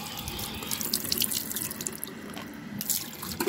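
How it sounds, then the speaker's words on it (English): Warm water runs from a tap into a sink, a steady close splashing stream with scattered drips and small surges. No one speaks. "Let me get some warm water."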